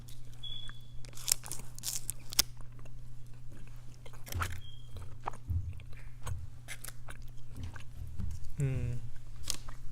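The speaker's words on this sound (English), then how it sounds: "Do a little bit of chewing for y'all." Close, wet chewing and biting of chicken nuggets at a Christmas mukbang meal, with irregular crunchy bites and soft mouth sounds spread over several seconds, no talking.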